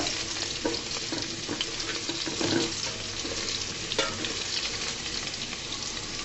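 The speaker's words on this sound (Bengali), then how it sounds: "দেখো বন্ধুরা, আলুগুলোকে আমি সুন্দর মতো ভেজে নিব।" Potatoes fry in a pan for an aloo patol dish, with a dense, continuous sizzle and crackle, stirred now and then, close and fairly loud, with no talking.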